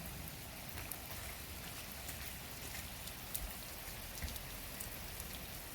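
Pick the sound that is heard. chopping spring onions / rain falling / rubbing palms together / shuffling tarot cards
rain falling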